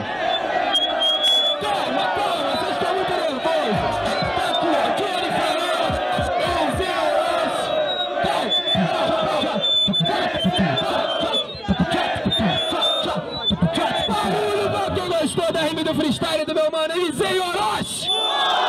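A large crowd roars and yells continuously at a Brazilian freestyle rap battle, with loud shouts and cheering sustained throughout alongside overlapping voices.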